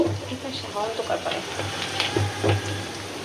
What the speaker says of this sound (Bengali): বেশ একটু বাজা ভাজা হোক